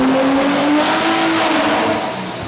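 A Nissan R33 GTST making over 1000 hp revs hard on a dyno. Its engine note rises into a loud, sustained scream that holds steady and then eases off slightly near the end, with no talk over it.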